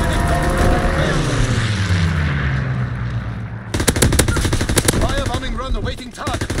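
Rapid machine-gun fire in a World War II video game, a sustained burst of loud automatic shots that breaks off and resumes in dense volleys over a rumbling battle backdrop.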